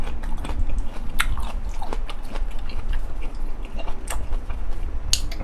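Someone bites and chews cucumber alongside a meal of raw prawns in fish sauce, giving crisp, wet crunches and repeated close chewing sounds at a steady pace, with no one talking.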